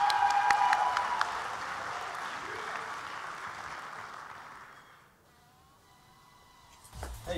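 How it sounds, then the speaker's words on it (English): Crowd applause at a national cosplay championship swells at the start and slowly fades out, leaving near silence before a brief noise at the very end. "Round of applause for Carly Lewis playing Safina from Tekken 6"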